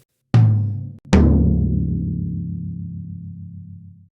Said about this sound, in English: Have you ever gone to hit the toms and it sounds something like this?